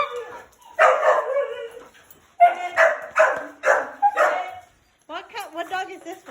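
Several dogs bark and yip close by in a series of loud, uneven bursts, with whimpering between them.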